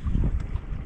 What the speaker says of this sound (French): il y a un petit vent de, je dirais, entre 5 et 10 nœuds